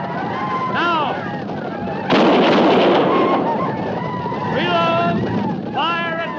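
Volleys of gunfire and rumbling shots from an old-time radio western battle scene, a dense loud burst in the middle with sharper cracks around it, and voices shouting over the din.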